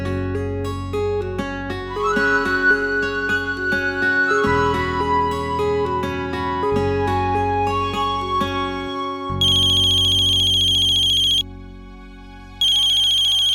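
A mobile phone ringtone plays loudly as a bright electronic melody, then switches to a repeating high trilling ring that pauses briefly and resumes.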